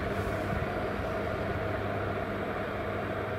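A Philips HU2716 air humidifier runs with a constant rushing, rumbling drone that stays even and fairly loud throughout, with no voices over it.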